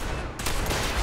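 Dense, continuous gunfire in the post-apocalyptic shooter Fallout 4, a loud volley of overlapping shots that grows heavier partway through and keeps up without pause.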